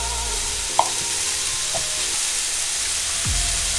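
Cauliflower cooks in a pan with a steady, broad sizzle and hiss, with a few faint utensil clicks and scrapes near the start and end.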